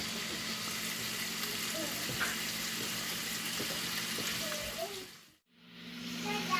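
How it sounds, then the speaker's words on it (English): Bacon sizzles in hot oil in a pan, a steady close crackling hiss that holds for several seconds, then cuts out briefly and resumes. "If you can hear the sizzle, it got hot real fast with that oil"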